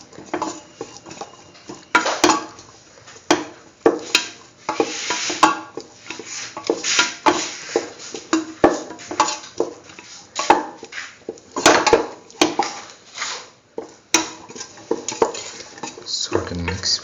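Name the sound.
stirring potato pieces with spices in a pan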